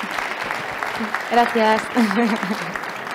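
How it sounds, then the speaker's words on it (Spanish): Audience applause on a stage at the Gastrónoma 2019 food event, a broad steady patter with a voice briefly speaking over it near the middle. "os pido, para despedirla, un fuerte aplauso"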